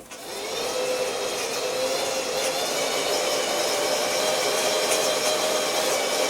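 A blacksmith's forge roars as it heats steel for an S hook, a loud, steady blowing rush that starts abruptly and holds constant with no voices.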